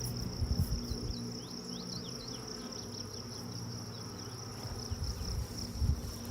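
Honey bees buzzing around a hive frame holding pollen, honey, nectar and brood, a steady close hum with a thin high whine over it, some low bumps and handling noise throughout.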